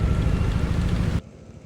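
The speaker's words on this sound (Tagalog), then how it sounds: "Umuulan!" Rain falls steadily at night while riding along a bay, a dense hissing patter on surfaces that cuts off abruptly partway through.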